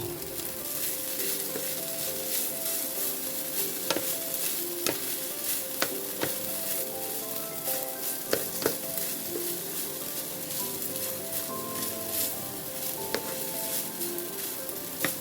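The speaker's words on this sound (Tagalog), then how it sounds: "Ayan, lagay na natin yung toge." Bean sprouts stir-fried with leftover rice, shrimp and carrot in a hot pan, giving a continuous close sizzle broken by frequent sharp scrapes and taps of a spatula.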